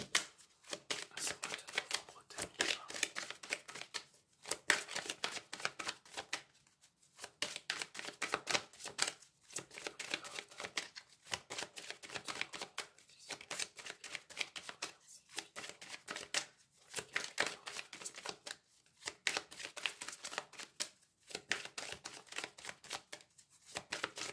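Oracle cards being shuffled for a reading: repeated bursts of crisp riffling and flicking, several seconds each, separated by short pauses, close and fairly quiet, with no talking.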